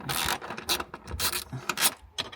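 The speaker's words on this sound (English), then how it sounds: "So I'm going to undo these 2 screws, these 2 nuts here." Bracket nuts are undone by hand tool in the boot floor of a Land Rover Defender L663, heard as a series of short, close metallic ratcheting and rasping bursts separated by brief pauses.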